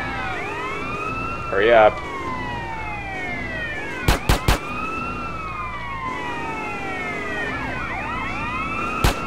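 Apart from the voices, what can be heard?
police car sirens in the video game GTA San Andreas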